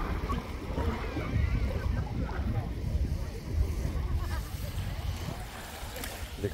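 A small boat arrives across open water in Greece's Peloponnese, with steady engine rumble and wash, wind noise blowing over the microphone throughout.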